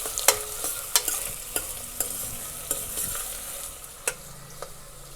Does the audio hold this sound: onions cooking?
yes